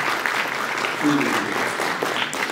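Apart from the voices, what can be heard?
audience applause at a techfest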